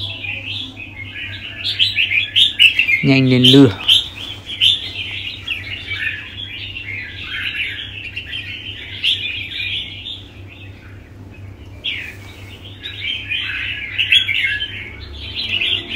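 Caged songbirds chirp in quick, high, continuous twittering that carries on through most of the stretch, with a short louder call near the start and someone speaking briefly.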